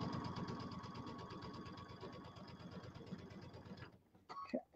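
Domestic sewing machine with an embroidery unit still attached, stitching a scant quarter-inch seam through quilt fabric: a steady rapid motor whir with fast needle thumps, stopping near the end as a few small handling noises follow.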